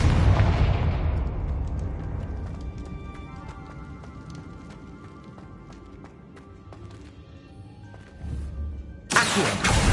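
A Confringo blasting curse explodes in Hogwarts Legacy with a loud burst at the start that rumbles away, then scattered clatter and thuds, and a second sharp blast near the end; no talk.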